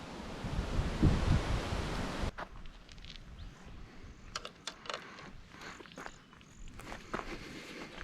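Wind gusting across a lake shore during a bait-fishing session, a steady broad rushing roar that drops off partway through, then lighter breezy noise with scattered small knocks and rustles nearby.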